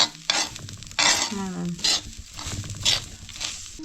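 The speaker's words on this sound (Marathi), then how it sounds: "परतत राहायचे भाजले जातात म्हणजे चिटकत पण नाही खाली" Rice grains roasting dry in a pan are stirred repeatedly with a spatula, giving sharp scraping strokes over a soft sizzle, with a brief voice in the middle.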